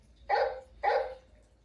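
Two sharp dog barks from a Playskool Alphie toy robot, evenly spaced about half a second apart, close and moderately loud over a faint hum.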